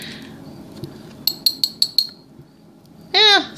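Glass beads drop into a glass container, giving a quick series of five bright clinks close up, then a short ringing scrape at the end.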